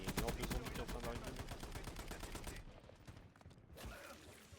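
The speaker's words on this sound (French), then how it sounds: "Ça tire encore, hein." Rapid bursts of gunfire in the video game Warzone, dense and loud at first, then thinning into scattered shots after a brief lull, with faint voices in the background.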